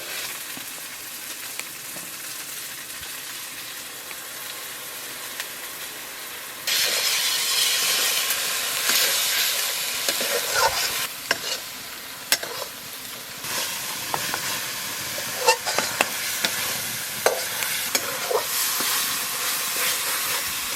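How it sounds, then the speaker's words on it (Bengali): Spice paste of turmeric, chili powder and salt mixed with water frying in a pan while being stirred, a steady loud sizzling hiss that jumps up partway through, with scraping stir strokes and small pops, no talk. "মশলাটা কষা হয়ে গেছে"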